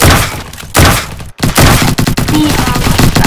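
Rapid automatic AK rifle fire in the Bad Business shooter game, loud dense bursts filling most of the moment with a brief gap in the middle, no talk over it.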